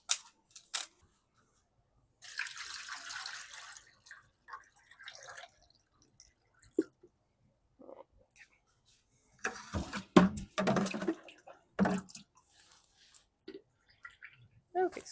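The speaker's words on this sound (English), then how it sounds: "So let's add the water." Water poured into a double boiler pan on a stovetop, heard as short, close splashing bursts separated by quiet gaps, with little talking.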